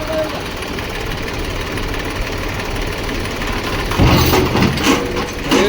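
A tractor engine chugs steadily nearby at a clay pit, a continuous low rumble that grows louder and rougher toward the end, with faint voices in the background.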